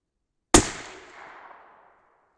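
A single sharp 6.5 Creedmoor rifle shot fired with an IMR4350 powder load, loud and sudden with a long fading outdoor echo that trails off over about a second and a half.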